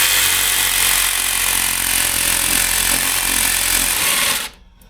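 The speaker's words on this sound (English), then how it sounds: "reciprocating saw is not going to go through those" A reciprocating saw buzzes loudly and continuously as it works on body panels of a 1974 Range Rover during restoration, a harsh rapid vibration that cuts off abruptly near the end.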